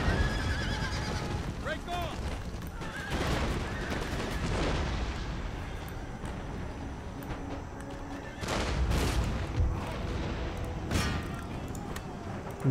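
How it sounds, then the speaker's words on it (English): Horse guards cavalry charging into battle in Empire Total War, with neighing horses and hoofbeats mixed with musket and artillery gunfire, a dense, loud, continuous battle din with bursts of firing around the middle and end. "Suicidal charge of the first horse guards."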